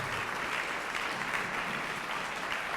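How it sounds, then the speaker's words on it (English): An audience at a speaking event claps in sustained, even applause, a dense wash of many hands throughout. "Please give Garry another round of applause."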